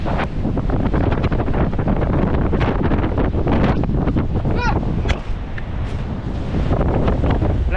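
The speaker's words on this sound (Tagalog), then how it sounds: "Lakas ng hangin." Loud, gusty typhoon wind buffets the microphone in heavy roaring blasts, with a short startled shout partway through.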